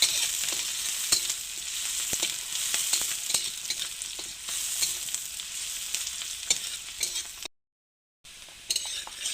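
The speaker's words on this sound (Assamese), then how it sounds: "তেলখিনি গৰম হৈছে এতিয়া মই ইয়াতে কাটি ৰখা পিঁয়াজ দিম অলপ পিঁয়াজখিনি এতিয়া লৰাই দিছোঁ" Chopped onions fry in hot oil, a steady close sizzle with frequent scrapes and clinks of a spoon stirring in the pan, briefly cutting out near the end.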